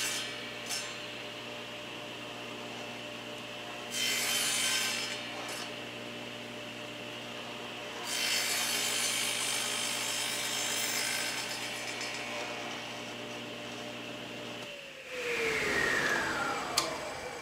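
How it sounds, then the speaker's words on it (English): A saw shaves thin passes off elm wood for a console table, giving several rasping, whooshing bursts of cutting over a steady background hum, ending with a motor spinning down. "I'm just gonna shave a little bit off this, so it'll be a couple of passes."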